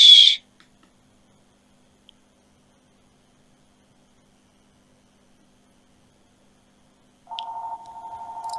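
A phone starts ringing in a quiet film scene, a steady electronic tone rising near the end after long near-silence, with a brief higher chirp at the very start.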